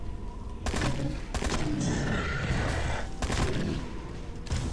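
Automatic rifle fire in the mobile hunting game Dino Hunter Deadly Shores, with several loud bursts of rapid shots separated by brief pauses and game effects in between.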